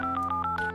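Telephone keypad tones in the Leisure Suit Larry video game, a quick series of loud electronic dial beeps played back to back with no pauses between them.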